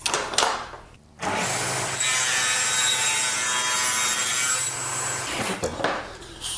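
Table saw blade running through pallet wood to cut a rabbet, a loud steady whine and rasp holding for several seconds after a brief spin-up, then tapering off as the cut ends.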